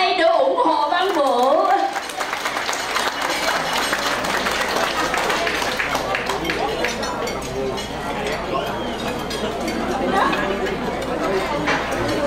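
Applause with chatter from the audience at a farewell party at Blessed Sacrament Catholic Church, clapping steady and fairly loud across the room with voices mixed in and faint clinks.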